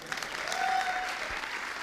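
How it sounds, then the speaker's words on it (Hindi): An audience claps together in a steady burst of applause, a dense, even patter lasting a couple of seconds with no talk over it. "एक बार ताली बजाओ इनके लिए,"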